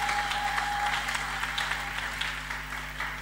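A church congregation applauds steadily in a dense, sustained burst of clapping that fades slightly toward the end.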